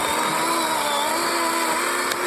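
A DeWalt 12-inch 20V MAX cordless electric chainsaw slowly cuts through a thick piece of wood, its motor giving a steady, loud, continuous whine.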